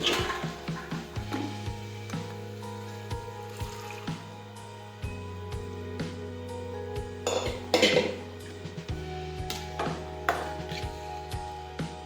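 A spoon mixes boiled urad beans in a cooking pot, producing a steady series of metallic clinks and scrapes at an irregular rhythm, close and fairly loud over a constant low hum.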